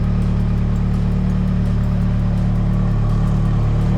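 A Nissan S13 with a newly installed motor runs at a steady, loud idle. The deep, continuous engine drone holds constant throughout with no revving.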